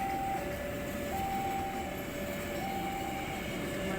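A container freight train rumbles steadily past at close range, a continuous broadband roar with faint tonal squeals riding over it, no voices.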